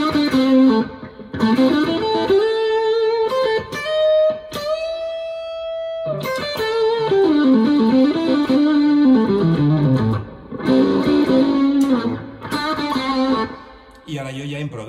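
An improvised guitar passage runs through an Apogee Jam interface into GarageBand with Platinum Verb reverb, giving sustained, gliding melodic lines with long reverb tails that play continuously and fairly loud, with no talking.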